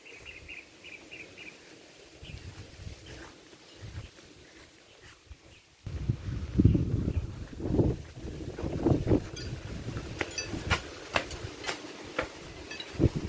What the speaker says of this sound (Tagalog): Grabe yung hangin dito sa bahay, friendship. Ang lakas ng hangin.